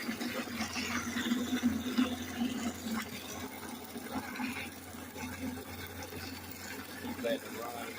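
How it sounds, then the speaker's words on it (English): Water runs from a tankless water heater into a bucket during a vinegar descaling flush, a steady rushing and splashing pour that continues throughout with a faint mechanical hum underneath. "You want to keep emptying your bucket and turning on the cold until that water runs clear."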